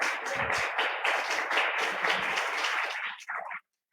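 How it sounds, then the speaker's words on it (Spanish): Congregation clapping together in a church service, brisk moderate applause at close range that stops abruptly after a few seconds. "¿Por qué no le dan un fuerte aplauso a nuestro Dios?"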